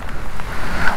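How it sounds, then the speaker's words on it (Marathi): Forceful rushing water at Kumbhe waterfall in the monsoon, a loud, continuous broadband roar with wind buffeting the microphone and no distinct breaks. "पाण्याचा फोर्स बघा ना किती पाण्याचा फोर्स येतोय ते"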